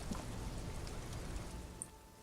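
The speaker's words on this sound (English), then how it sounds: "It's raining again." Rain falls steadily in the Disco Elysium video game, a soft, even hiss of drops with faint patters, quiet and unbroken with no talking.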